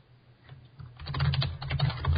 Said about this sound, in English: How loud is this typing? That's extremely loud.